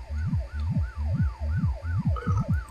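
A police car siren in the video game My Summer Car wails in fast, repeating up-and-down sweeps, loud and close as the vehicle passes, with no talk over it.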